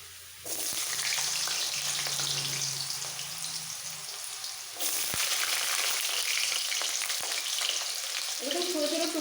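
Potatoes, carrots and cauliflower fry together in a pan of hot oil, giving a loud, steady sizzle that swells louder midway as more vegetables hit the pan, with a few stirring clinks.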